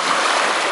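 Lake waves washing against the shore at Goderich, a dense, steady broadband rush of water, loud and close with no talk.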